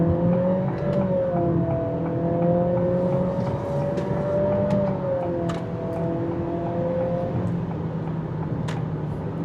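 A 2026 Acura ADX accelerates under throttle in sport mode as its CVT kicks down, a steady engine drone with a rising and falling tone heard from inside the cabin and running continuously throughout.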